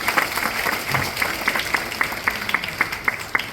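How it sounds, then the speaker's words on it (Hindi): Audience applause for a motivational speaker's message, a steady crackle of many hands clapping with rhythmic accented claps standing out, moderately loud and sustained without speech. "एक जोरदार ताली आप सभी के लिए।"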